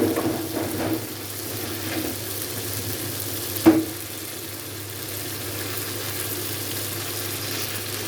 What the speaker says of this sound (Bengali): এখন লাউটা দিয়ে দিব।